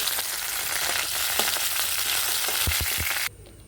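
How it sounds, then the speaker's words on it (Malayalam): Holy basil leaves fry in hot oil, a dense close sizzle with scattered crackles and a few low stirring knocks, cutting off suddenly near the end. "ഈ എണ്ണ നന്നായിട്ട് ഒരു ചൂടായി വരുമ്പോൾ തുളസിയില കുറച്ചൊന്ന് ഇളക്കി കൊടുക്കണം"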